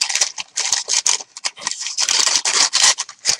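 Paper bag being cut with scissors for a craft project, a steady run of crisp snipping strokes close by, quick and irregular with brief pauses between cuts.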